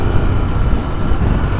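A Royal Enfield Continental GT 650 engine runs smoothly on a wet morning ride, a dense, steady low rumble mixed with wind rush, close and loud with no breaks.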